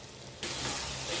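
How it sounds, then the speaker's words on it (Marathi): Red chilli powder, chole masala, amchur and turmeric sautéing with fried tomato in a pan for chole, a loud sudden burst of sizzling that starts abruptly and then holds as a steady close hiss. "सर्व मसाले परतून घेऊया."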